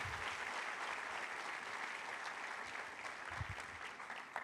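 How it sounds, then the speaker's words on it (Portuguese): A church congregation applauds during worship after a sermon, a quiet, distant wash of continuous clapping filling the room, with a few low thumps underneath. "vamos dar um aplauso ao Seu Jesus"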